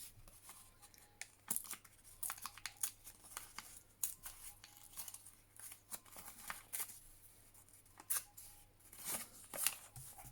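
Paper is torn by hand for a craft project in short, quiet bursts of ripping and rustling, spaced irregularly, close by.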